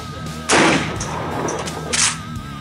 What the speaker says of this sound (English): we're gonna chrono some of the Rio 12 gauge at really almost muzzle distance